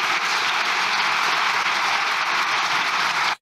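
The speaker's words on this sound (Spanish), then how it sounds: "Mientras estas personas aplaudían" A crowd of people applauding steadily and loudly throughout, a dense, even wash of clapping with no voices standing out.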